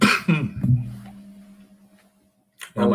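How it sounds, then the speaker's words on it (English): A person coughs several times in quick succession at close range, loud harsh bursts that trail off into quiet, then another burst starts at the end. "Now my coughs will come in."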